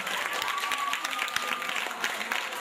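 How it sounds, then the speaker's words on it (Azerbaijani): An audience claps steadily for about two and a half seconds, a dense, even wash of many hands at moderate loudness with no voices standing out. "Bu xalalar üçün, bu əmilər üçün bir alqış istəyəcəm sizdən."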